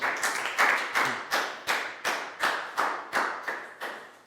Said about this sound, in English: So high five and a big round of applause for down.